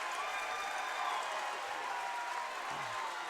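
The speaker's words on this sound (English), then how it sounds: "A big cheer from the Forest Park Ranger fans." Basketball fans of the Forest Park Rangers cheer and applaud in a school gym right after a foul is whistled, a steady wall of crowd noise with no single voice standing out.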